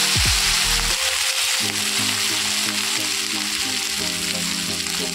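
Paste made from the inside of plantain sizzles loudly in a hot pan while being stirred for a stuffed teasel gourd filling, with constant frying hiss and scraping, rhythmic stirring strokes close up.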